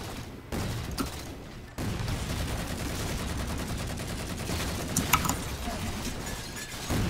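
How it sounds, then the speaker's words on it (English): Light rifle fire in the Halo game from The Master Chief Collection, a rapid dense stream of crackling shots running almost continuously at moderate level, with a sharper burst near the end. "Spamming a light rifle."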